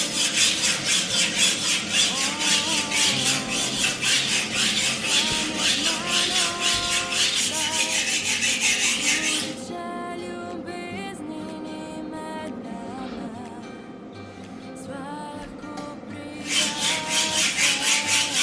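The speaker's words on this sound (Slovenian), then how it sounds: "Zdaj bomo nabrusali nož na roke," A knife is sharpened by hand on diamond plates, a loud, steady rhythmic rasping of steel strokes back and forth, pausing briefly for lighter scraping before the full strokes resume.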